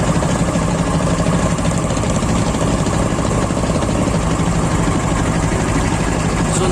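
Fishing trawler engine idling on the Karnaphuli River, a loud, steady, close mechanical drone with constant vibration and no pauses.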